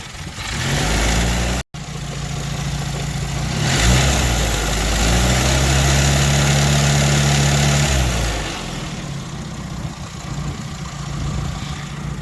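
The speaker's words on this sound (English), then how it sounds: "I was measuring at idle, and it's got a generator, not a alternator, so it doesn't produce volts when it's running slow." Morris 1100S small four-cylinder engine, fitted with a generator rather than an alternator, idling close by with a steady low hum that briefly rises and settles over several seconds before fading to a quieter background.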